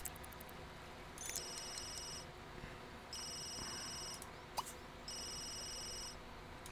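A telephone rings in the Sims 3 video game: three separate bursts of bright electronic trilling with short quiet gaps between them, set against a faint low background hum.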